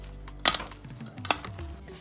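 Hot, soft sweet potatoes being mashed in a pot, with two sharp clanks of the masher against the side over soft squishing and scraping, close and fairly quiet.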